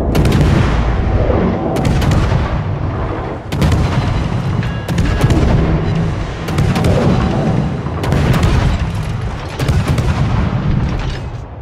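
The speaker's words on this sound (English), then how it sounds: "Concentrate fire on that enemy warship." Heavy naval guns from warships in the video game World of Warships boom repeatedly in loud, overlapping salvos, each blast followed by a rolling rumble, with no speech over the barrage.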